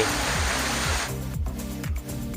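A waterfall along a clear stream near Mae Taeng, Chiang Mai, gives off a loud, constant rushing roar. A faint low rhythmic tone sounds beneath it.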